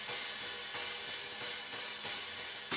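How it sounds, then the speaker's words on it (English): A drum kit cymbal washes with a dense, hissing shimmer, struck again every half second or so in a steady pattern, loud and sustained with no voices over it. "there's a texture to a cymbal"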